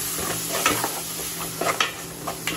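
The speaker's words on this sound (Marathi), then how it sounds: "आता मसाला करपायला नको म्हणून मी याच्यामध्ये लगेच हा टोमॅटो टाकते।" Tomato goes into frying masala for a dried fish rassa, a steady sizzle under repeated scraping stirs of a spoon in the pan, close and continuous with no talking.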